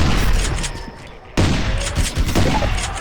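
Shotgun fire in a first-person shooter video game, dense booming blasts with a brief cut midway, loud and continuous across the short stretch.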